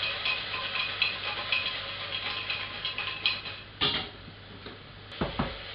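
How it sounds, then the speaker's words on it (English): A spoon stirs kichidi in a cooking pot with soft, repeated scraping and light knocks, fairly close and steady, ending in a couple of sharper taps against the pot. "Mix it a little."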